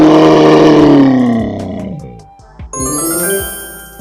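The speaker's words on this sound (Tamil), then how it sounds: "பசுமாடு" A cow gives a loud, long, low moo that slides downward in pitch and fades. A short pause follows, then bright bell-like tinkling.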